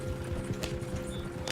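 Horse hooves galloping in the Red Dead Redemption 2 video game, a steady rapid clip-clop rhythm running throughout at moderate loudness with no talk over it.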